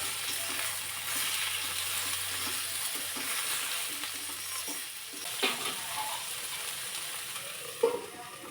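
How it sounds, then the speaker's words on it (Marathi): Okra stir-fried in a pan with a pinch of salt keeps up a steady, close sizzle, broken by a few light scrapes and clinks of a spatula, with no voices. "भेंडी चांगली व्यवस्थित परतून घ्यायची"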